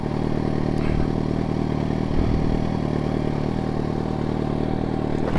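A Yamaha FZ1N motorcycle with a full Remus exhaust system idles steadily and loudly nearby, with a deep, even throb and a slight clattery mechanical edge.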